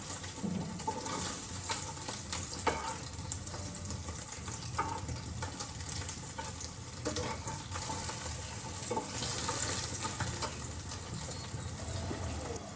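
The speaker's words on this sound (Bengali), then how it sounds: "এখন ডিমগুলো সুন্দর করে ভেজে দিচ্ছি" Eggs fry in a kadai on the stove, giving a steady close sizzle with scattered crackles and pops throughout, and no one speaking.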